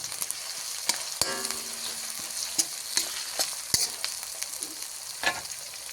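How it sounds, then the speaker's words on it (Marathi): Onion, garlic and ginger fry in hot oil, a steady sizzle broken by scattered clinks and scrapes as the mixture is stirred in the pan. "कांदा लसूण आलं चांगला आता परतून घेतलं आहे."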